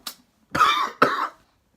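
Three dry coughs, a small one followed by two fuller ones, close to the microphone with short silences between.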